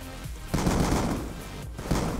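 Loud, rapid bursts of gunfire in the video game Call of Duty: Black Ops 2, shots coming in quick overlapping volleys from several directions, with no speech.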